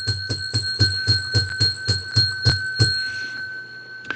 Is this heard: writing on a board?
no